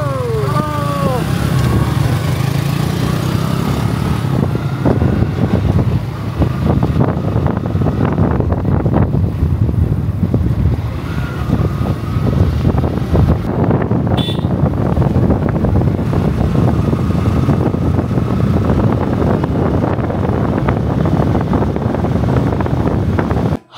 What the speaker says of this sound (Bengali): নতুন বাইক চালাচ্ছি